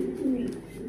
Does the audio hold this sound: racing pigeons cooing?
yes